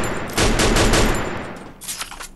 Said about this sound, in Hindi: अब चलाते हुए लेवल 3 के M60, लेट्स सी भाई।